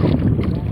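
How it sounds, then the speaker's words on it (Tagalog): Strong wind blowing over the open sea buffets the microphone in a loud, continuous rush with a low rumble, brief and without a break. "Talagang lakas ng hangin dito."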